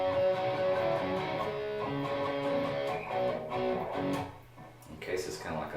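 An electric guitar plays a rock shuffle riff, a sustained, bright, chordal passage that grows busier toward the end, with speech blended in.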